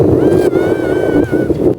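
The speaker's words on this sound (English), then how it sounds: "It's so windy." Strong wind buffets the microphone at a New Zealand summit viewpoint with a continuous roar, gusting unevenly, while a faint whistling tone runs underneath.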